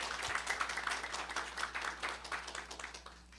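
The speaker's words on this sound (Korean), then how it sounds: "홍익대학교 상경대학 김수희 교수님을 큰 박수로 환영해 주시길 바랍니다" Applause from a forum audience at an energy and natural gas event, a dense, even wash of many hands clapping together, heard from a distance and fairly soft, with no voices over it.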